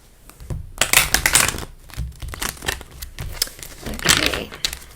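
Tarot cards are shuffled close up in a series of quick papery riffles and soft slaps, each burst separated by short pauses, with no voice.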